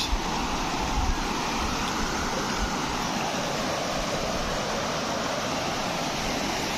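Steady, continuous rush of Punjisil waterfall in Odisha, a dense broadband roar that holds unchanged throughout, close and loud with no voices.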